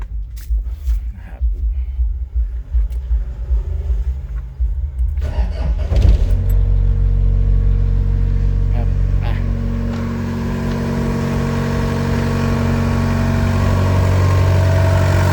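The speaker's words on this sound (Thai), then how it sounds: "เดี๋ยวลองฟังเสียงเครื่องยนต์นะครับ ตอนสตาร์ทกัน" An SK60-10 excavator engine cranks and catches, then settles into a steady, loud idle; someone talks over the opening before the engine takes over alone.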